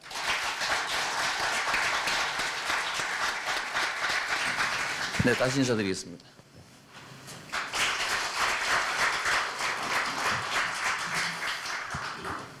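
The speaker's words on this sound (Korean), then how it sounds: "여러분 박수로 이재명 시장을 맞아주십시오." An audience at a Korean press forum claps to welcome a city mayor to the stage, a loud sustained burst of applause that stops briefly, resumes, and runs under someone speaking into a microphone.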